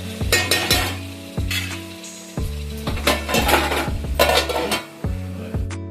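Spicy Telangana-style mutton curry is stirred in a pot over a high flame, with a spoon scraping and clinking against the metal in repeated strokes over a steady sizzle, close and loud, with no talk.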